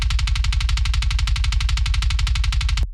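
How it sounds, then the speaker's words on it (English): A rapid, steady train of heavily processed kick drum hits, punchy and booming, repeating evenly for about three seconds before cutting off. "if I turn on the processing, that sounds like this"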